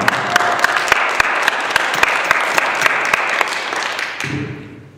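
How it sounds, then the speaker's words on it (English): A crowd at a poetry slam gives a loud, dense round of applause for a poet, steady clapping that fades out quickly at the end. "Another round of applause for Skylark."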